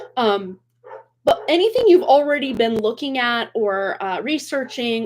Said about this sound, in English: sorry about my dogs. I know you can hear that.